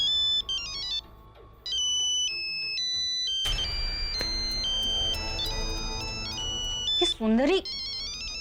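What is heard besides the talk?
phone ringtone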